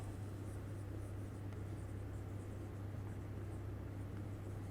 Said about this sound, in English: Let us write this also.